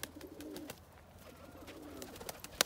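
Arab breed pigeons coo in a loft, soft low coos repeating under a faint background with a few scattered clicks and one sharp tap near the end.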